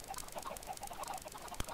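Chickens in the video game Minecraft cluck in quick, faint bursts, with a sharp click near the end and no talking.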